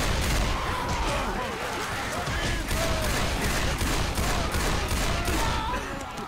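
Gunfire crackles in Left 4 Dead 2, dense rapid shots and scattered effects forming a loud continuous volley over several seconds, with a voice speaking underneath.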